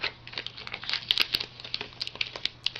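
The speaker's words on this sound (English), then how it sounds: "you're just gonna lift all the transfer tape off" Vinyl transfer tape peels off a handmade glitter Grinch ornament with close, crinkly crackling that comes in short bursts of ticks and pops over a steady faint hiss, with no voices.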